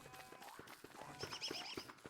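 Horse in the Don't Starve video game, with clip-clop hoof steps and a short whinny-like call over a busy game ambience, moderately loud and close.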